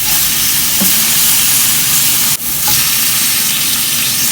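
Meat for birria sears over an open fire with a loud, steady sizzle and hiss throughout, a brief dip near the middle, and no talking.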